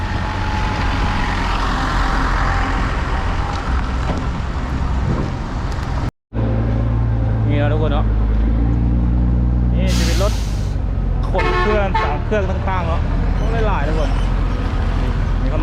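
Vehicles arriving at a Hmong New Year festival in Laos, with steady engine rumble and road noise close by under a continuous crowd murmur and voices talking.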